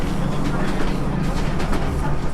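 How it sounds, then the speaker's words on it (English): A train halts at a remote station platform in the Scottish Highlands. A steady, loud rumble and hiss fill the carriage interior, with muffled voices mixed in. "So apparently we've just stopped at the most remote train station in the UK."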